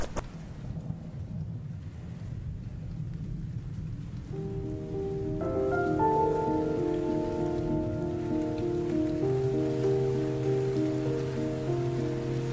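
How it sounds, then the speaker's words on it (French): Steady rain falls through the night as a dense, continuous patter that stays loud and even throughout, while sustained musical tones enter partway and play over it. "Oh génial, il pleut. Oh non, je déteste vraiment la pluie, surtout quand il pleut la nuit."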